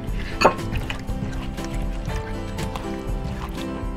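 Kiwis and other fruit are stirred together in a bowl, giving soft wet squelches and light clinks close by, with no talking.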